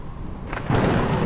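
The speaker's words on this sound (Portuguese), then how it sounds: "Ventos fortes sopravam pela cidade e havia chuva intermitente." Storm with strong winds and intermittent rain: a low, soft rumble with faint patter that swells into a broad, louder rushing wash of rain and wind near the end.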